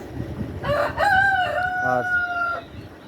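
A rooster crows once, loud and close, in one long drawn-out call on a poultry farm that keeps Fayoumi, layer and Sonali chickens, with faint farmyard noise around it.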